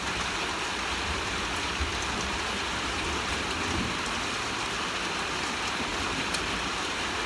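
Steady rain pours down throughout a thunderstorm, a dense unbroken hiss with no distinct thunderclap standing out.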